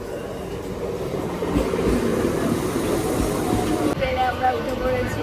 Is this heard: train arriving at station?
yes